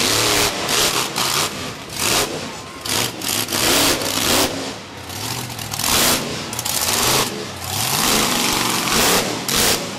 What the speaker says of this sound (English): This truck runs a blown 460 cubic inch Ford engine